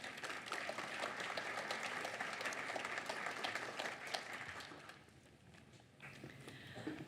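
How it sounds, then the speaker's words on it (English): An outdoor audience at a memorial dedication for the Snow Country Prison gives a round of applause for a speaker. The clapping is distant and scattered, runs steadily and then thins out toward the end. "Let's give her a round of applause, please."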